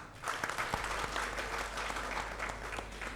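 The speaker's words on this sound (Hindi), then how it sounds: "अपने आप के लिए ज़ोरदार तालियाँ" Quiet, steady audience applause at the POSH conclave and award ceremony, a soft continuous patter of clapping over a low background hum.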